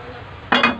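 A single sharp metallic clank as a cooking pot is picked up and set down in a home kitchen, short and close after a quiet background, with no speech.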